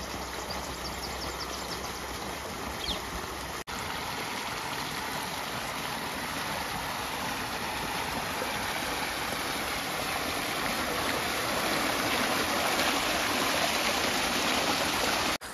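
Steady rushing water pours continuously from a motor-pumped well into a farm channel, a dense, even flow that stays loud and unchanging throughout, with no voices.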